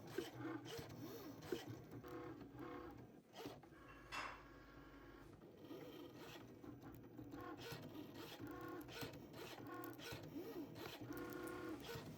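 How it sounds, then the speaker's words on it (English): A stencil cutting machine works through wet tissue paper with a quiet mechanical whir, punctuated by soft rasping and scratchy strokes as the blade moves, faint and continuous. "So it's just cutting through the machine now."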